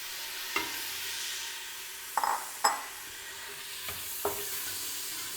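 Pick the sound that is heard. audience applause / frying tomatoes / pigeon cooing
frying tomatoes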